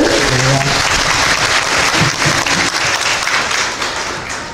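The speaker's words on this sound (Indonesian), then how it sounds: "Beri tepuk tangan untuk Tuhan, boleh?" Congregation applauding in a church gathering at an Indonesian youth day celebration, dense steady clapping from many hands filling the room throughout, easing slightly toward the end.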